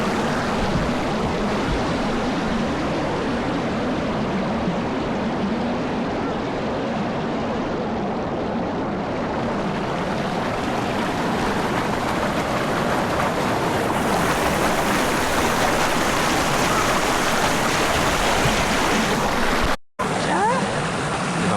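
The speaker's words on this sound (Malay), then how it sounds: "air dekat sungai ni tak berapa deras dan memang sesuai untuk kanak-kanak kecil" Shallow, gentle river stream flowing over rocks at Jeram Toi, a steady broadband rush of water heard up close and continuously, with a brief dropout near the end.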